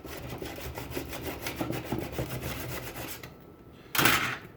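A blade scrapes and cuts away wood from a dowel peg on a wooden footstool in a series of short, close rasping strokes, followed by a brief louder scrape at the end.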